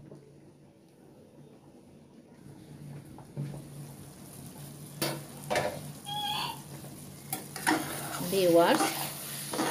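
Dried fish curry with tomato, onion leaves and green chilli cooks in a pan, a soft steady sizzle punctuated by stirring scrapes and clinks that grow busier toward the end, with a brief voice speaking.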